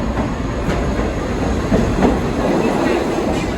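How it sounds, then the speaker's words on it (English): A New York City subway train underway between the 7 and 4 lines, a loud continuous rumble with rhythmic clickety-clack of wheels over rail joints and faint squeals, heard from inside the car. "let's get back on the train"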